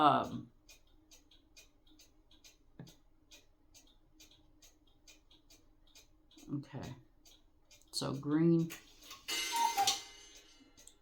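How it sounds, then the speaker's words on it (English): A cuckoo clock ticks in a quiet indoor room, its faint, evenly spaced clicks running under occasional speech and handling noises. "Sorry about that gosh darn cuckoo clock. That's not going to stop. It's every hour."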